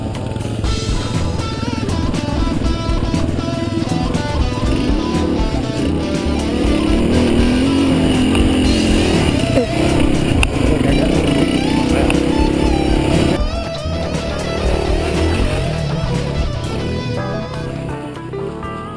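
Motorcycles ride a rough, wooded pipeline trail in Kentucky, their engines loud and close with continuous revving and clattering over uneven ground.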